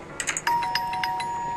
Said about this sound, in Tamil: யாருப்பா காலிங் பெல்லு?